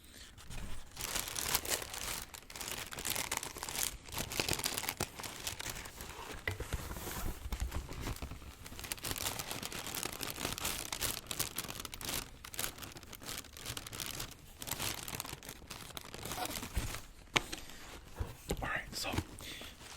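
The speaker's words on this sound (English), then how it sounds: "we'll get some crinkle" Paper crinkling and rustling while shoes are unwrapped, a steady close-up stream of crisp crackles and soft scratchy handling, with quiet whispering woven throughout.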